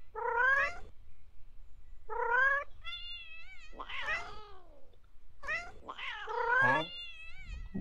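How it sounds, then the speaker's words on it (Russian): Cats meow and caterwaul in a first-person video game, a run of about half a dozen drawn-out calls, some overlapping, clear and close in an otherwise quiet scene. "Тут же чисто тупо коты говорят, непонятно ничего."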